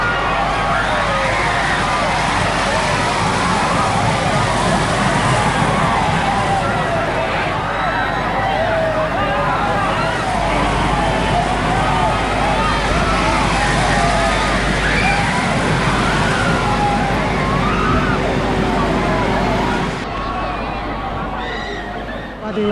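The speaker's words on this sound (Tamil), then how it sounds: "பசங்களுடைய ஆரவாரத்தை." An artificial tsunami wave pool at a theme park in Madurai, with water sloshing and churning continuously beneath a noisy crowd of people shouting and cheering throughout, the din easing near the end.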